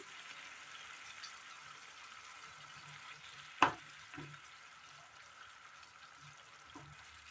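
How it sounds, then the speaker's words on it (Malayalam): Jackfruit seed curry simmers in a pot with curry leaves tossed in, giving a soft, steady bubbling sizzle with one sharp clatter midway and a couple of faint knocks after. "നല്ലതുപോലെ ഒന്ന് തിളച്ച് വരുമ്പോൾ ഇതിലേക്ക് കറിവേപ്പില ഇട്ട് കൊടുക്കാം"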